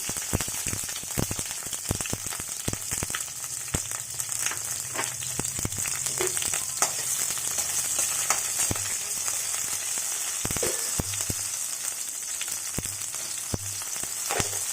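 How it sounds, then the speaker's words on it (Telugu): Green and dried chillies fry in a couple of spoons of hot oil in a pan on a stove, giving a loud, steady crackling sizzle with scattered sharp pops throughout. "స్టవ్ వెలిగించి బాణలు పెట్టి రెండు స్పూన్లు వేసాను అందులో పచ్చిమిర్చి ఎండుమిర్చి"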